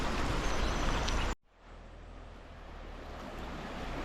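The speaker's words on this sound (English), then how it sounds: "King River's flowing pretty hard" High, hard-flowing King River rushing past with eddies, a loud broadband roar that cuts out abruptly partway and returns as a steady, slightly softer rush with no voices.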